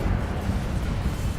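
An Incendio fire spell is cast in Hogwarts Legacy, a short, loud, roaring burst of flame that fills the whole moment like a dense eruption.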